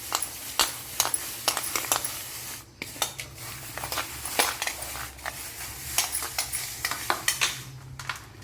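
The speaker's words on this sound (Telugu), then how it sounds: "బొక్కల గిన్నెలో వేసి ఇలా తిప్పుకోవాలి" Millet powder stirred by hand in a metal perforated bowl sieve, giving a steady run of close, sharp scraping and clinking strokes at an irregular rhythm, with no talk over it.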